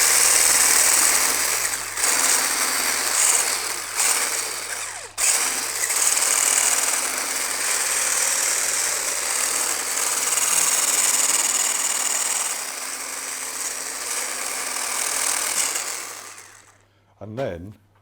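Electric mixer running at low speed, creaming butter and caster sugar for biscuits, a steady motor whir with a beating, rattly texture that continues throughout and stops near the end.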